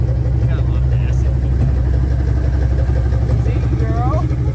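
A Ford Mustang engine idles steadily with a low, rumbling drone, loud and continuous, while people talk faintly over it.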